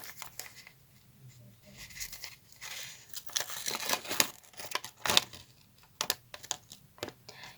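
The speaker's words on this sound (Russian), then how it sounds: "Так, открываем наш пакетик." A small plastic packet holding a collectible figure is torn open up close, with crinkling, rustling and tearing in irregular bursts and no talking.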